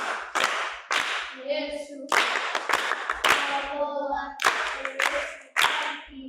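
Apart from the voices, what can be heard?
audience applause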